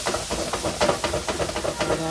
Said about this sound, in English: They are going to sizzle some because I just washed them.